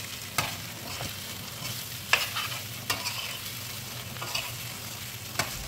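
Kerala-style beef fry with coconut pieces is stirred in a pan over the heat, giving a steady low sizzle broken by scraping strokes of the spoon, close and with no talking.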